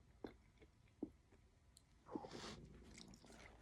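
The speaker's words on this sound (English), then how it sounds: "I gotta stop chewing so I can read" A person chews food close to the mic, with a few sharp crunching bites followed by softer, wetter mastication sounds.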